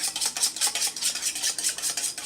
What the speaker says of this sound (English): and then we're gonna whisk this through.